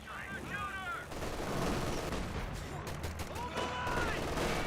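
Sustained gunfire and booms from a strafing run support ability in Company of Heroes 2, a dense continuous barrage of shots with harmonic whines at start and end, a commentator's voice faintly under it.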